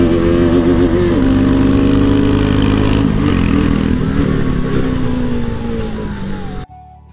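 A motorcycle ridden on the road, likely a Bullet or RS200, engine roaring loud and close with a rising and falling tone as it revs, then fading before cutting off abruptly near the end.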